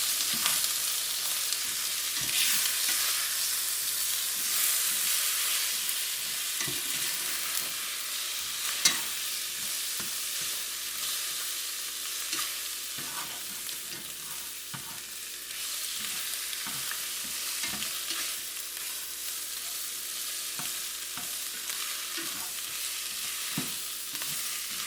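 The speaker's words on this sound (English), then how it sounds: "So 2 eggs, and stir everything all together." Andouille sausage fried rice sizzling steadily in a pan as two eggs are stirred in, a constant loud frying hiss broken by frequent scraping and tapping strokes of the spatula, close up with no talking.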